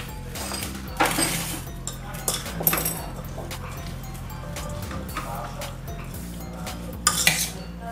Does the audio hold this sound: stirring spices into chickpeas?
yes